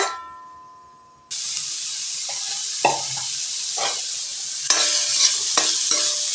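Grated carrot sautéing in ghee for a carrot and jaggery halwa: after a short near-silent start, a loud, steady sizzle begins, broken by a few scraping stirs of the spoon against the pan.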